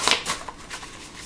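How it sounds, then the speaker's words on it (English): Tarot cards are shuffled close by in a quick burst of papery riffles and flicks with a few soft taps, lasting about a second. "Gotta find a good way to shuffle these cards."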